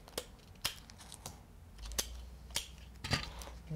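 Clear tape being handled and cut during a papercraft activity, a series of sharp close snips and crackles spaced irregularly over a low background, with no talking.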